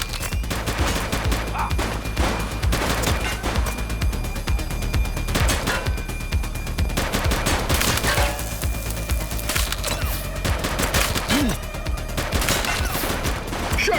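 Dense gunfire from a police shootout in The Precinct video game, bursts of loud shots and cracking impacts packed together across the whole stretch, layered over a constant low rumble with no pauses.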